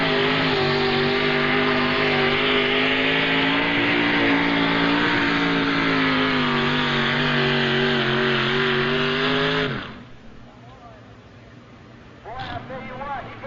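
A tractor-pull machine powered by a 604 Chevrolet engine making about 1,000 horsepower roars loud and steady for around ten seconds at the 1995 NTPA Fort Recovery pull, then cuts off abruptly, leaving quieter crowd ambience and a voice.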